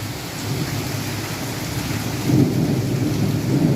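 A low rumble of thunder swells under steady heavy rain, growing louder toward the end.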